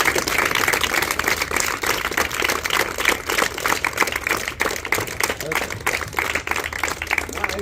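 Students clap loudly for their mothers at a school gathering, a fast, dense, sustained patter of many hands at steady volume, with voices mixed in.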